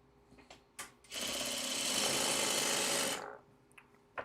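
A sewing machine runs while sewing, a few short clicks and then a fast, steady whirring stitch burst lasting about two seconds, close and fairly loud, followed by more light clicks.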